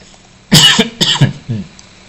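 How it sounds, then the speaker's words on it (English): A person coughs twice in quick succession, followed by a softer third cough, close and fairly loud against quiet. "Oh, the lingering coughs."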